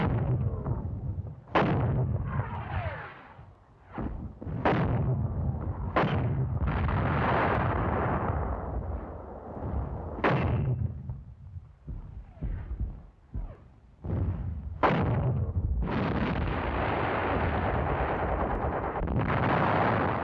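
Assault guns fire on a bunker in wartime combat, a dense barrage of heavy booming blasts and sharp cracks over continuous rumbling battle noise for the whole stretch, with some bursts of rapid fire.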